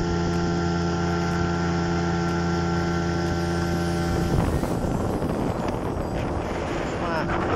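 Outboard motor pushing a fishing boat across open water, a steady loud drone mixed with wind buffeting and spray noise that grows rougher midway.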